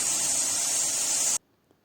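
Baking soda fizzes in Kashmiri pink tea, a loud, even, bright hiss that holds for over a second and then cuts off sharply into near silence.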